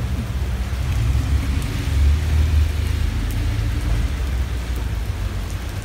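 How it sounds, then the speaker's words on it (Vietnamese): Steady rain falling in California just after a hailstorm, a dense, loud, continuous hiss and patter with a low rumbling undertone and no voices. "bây giờ thì cũng mưa bình thường thôi, không có gì hết nữa"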